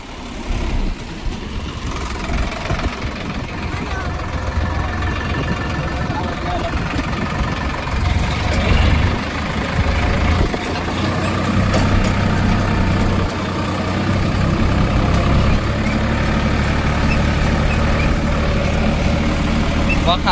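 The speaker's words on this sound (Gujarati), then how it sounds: "ટ્રેક્ટર આવી ગયા" A farm tractor engine idles steadily nearby with a low, even rumble that grows slightly louder toward the end, while people talk in the background.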